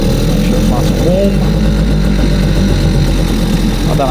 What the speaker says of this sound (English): You've got to love a two-stroke engine. So run through a little bit. Make sure it's nice and warm.